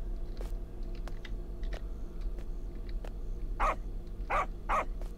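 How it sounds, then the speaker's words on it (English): A puppy barks three times in quick succession near the end of a horror video game scene, the sharp yaps rising over a low ominous drone, with scattered clicks and thumps earlier. "It likes barking at people."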